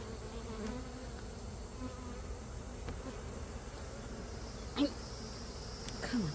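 Agitated honey bees buzz around a hive in a steady, dense hum that holds evenly throughout, with a couple of brief closer passes of individual insects near the end.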